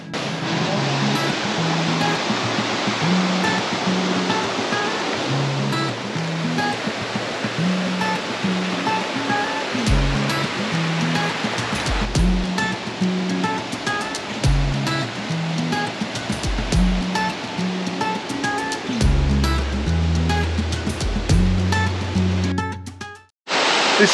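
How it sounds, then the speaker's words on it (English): Creek water at a swimming spot in the wet season, rushing in a steady, loud, broadband wash for the whole stretch, with no voices over it and a brief dip near the end. "This is Attie Creek."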